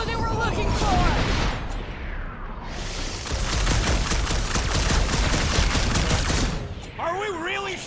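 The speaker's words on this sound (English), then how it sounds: "Are we really shooting up a cop stop?" Dense, sustained gunfire from the Guardians of the Galaxy video game, a loud rapid barrage running through most of the stretch with booming impacts, as voices shout briefly at the start and end.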